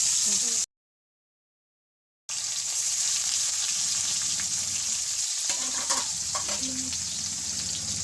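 Sliced onions frying in hot oil for a village-style Assamese pork curry, a steady close sizzle with faint scraping and stirring clicks, continuing after a short silent gap.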